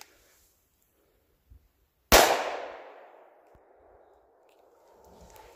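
Single loud report from a Smith and Wesson 5.7 firing a 40 grain bullet into a turkey target outdoors, a sharp blast with a long decaying ring, preceded by a faint click.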